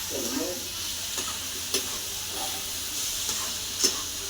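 Soybean chunks stir-fried in a pan for a dry sabzi, with a steady sizzle and scattered scraping stir strokes throughout, close and moderately loud, with no talking.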